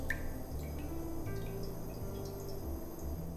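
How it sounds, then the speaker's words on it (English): Homemade Korean chicken broth is poured into a pan on a gas grill: a soft, close trickle and dripping of liquid running quietly and steadily, with a few small splashes and no talk. "Pour the rest of your liquid in here."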